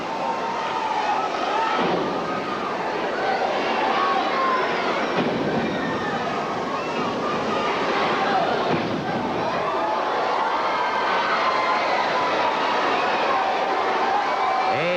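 A large wrestling crowd roars inside Boutwell Auditorium during a Continental Wrestling match, a loud, dense wall of cheering and shouting that swells in waves throughout, with a commentator's voice partly buried in the noise.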